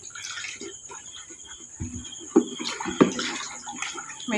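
Water poured into a container while making ice candy, with splashy trickles and a few sharper drips and clunks against a quiet background, close by.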